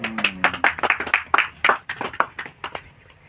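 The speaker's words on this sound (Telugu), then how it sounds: "చప్పట్లు కొట్టిందా?" A few people clap at a small birthday gathering for a film poster release, a close, uneven run of about a dozen crisp individual claps that loosen and fade toward the end.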